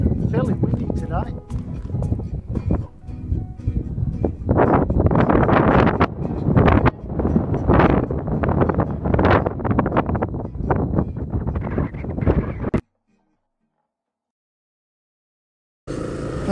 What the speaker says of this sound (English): Fairly windy today.